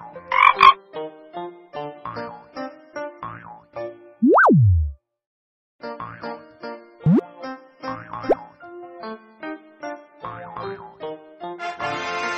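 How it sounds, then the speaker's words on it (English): A frog croaks over and over in quick, rhythmic bursts, interrupted by a few springy, sliding boing-like effects and short pauses, loud and close throughout. "Frog."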